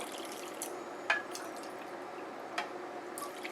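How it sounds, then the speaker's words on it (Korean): Water poured into a pot of Korean soy-braised eggs with trimmed chili pepper and green onion, a soft, steady hiss of liquid with a few faint drips and splashes, close by, with no talking. "물을 이제 부어줍니다"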